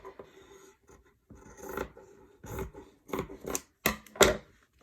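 Scissors trimming fabric for a bible cover, a few close, crisp snips in short bursts with small rustling handling sounds between them.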